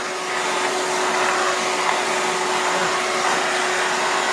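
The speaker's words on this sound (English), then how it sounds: "My wife bought this dry vac when we had our first house." A household wet/dry vacuum runs steadily and loudly with a constant motor whine throughout, drying up after a cleaning job at home, with no talking.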